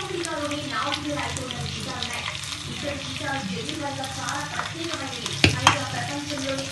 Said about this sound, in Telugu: కొద్దిగా మెత్తగా దంచి ఎల్లిపాయలు వేస్తున్నాను